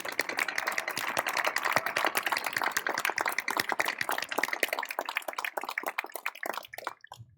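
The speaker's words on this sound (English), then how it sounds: "One more round of applause," A commencement crowd claps in a dense, brisk round of many individual hand claps that holds steady for several seconds, then thins out and fades to a few scattered last claps.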